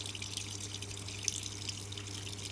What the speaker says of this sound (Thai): น้ำมาแล้ว